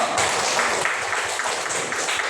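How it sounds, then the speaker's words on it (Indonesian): A classroom of students claps for a classmate at a school exam session, a steady dense patter of many hands sustained throughout, fairly loud and close with no talking over it. "Tepuk tangan untuk Bayu."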